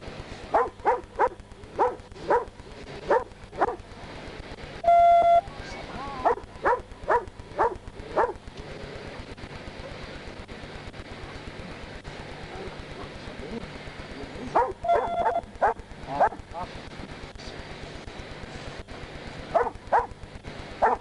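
A police dog barks in repeated rapid bursts during an arrest at a car, pausing and then starting again, fairly close, with a short shout breaking in at one point.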